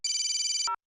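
An electronic phone ringtone plays as one brief, bright warbling trill lasting under a second, ending with a short lower blip, loud and alone.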